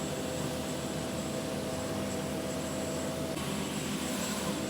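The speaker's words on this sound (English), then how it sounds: "That's the rotor brake just going on there. I'll actually slow these massive 5 rotor blades down." A Sea King helicopter's rotor brake slows its five huge rotor blades, heard as a loud, steady roar of engine and rotor noise with a constant high whine, unbroken and close throughout.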